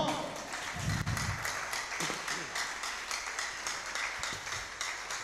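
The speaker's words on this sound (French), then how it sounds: "Je peux entendre tes applaudissements." Congregation claps during a prayer service, uneven rhythmic applause with scattered sharp claps, while a voice speaks over it and a low rumble sounds early on.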